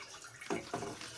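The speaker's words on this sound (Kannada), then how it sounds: "ಈಗ ಹಾಲು ಹಾಕ್ಕೊಳ್ಳೋಣ." Packet milk is poured into a cooking pot for making ginnu, giving two brief, quiet liquid splashes close by.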